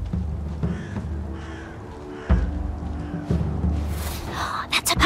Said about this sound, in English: Bird's voice.